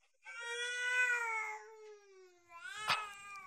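A baby crying nearby: two drawn-out, wavering wails, the first long and rising, the second shorter and sharper, heard alone at moderate volume.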